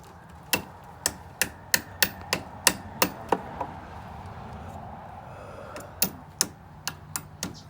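Nails are hammered into a wooden beehive comb frame as a steady series of sharp, close taps, roughly two per second, followed by a short lull and then another run of strikes.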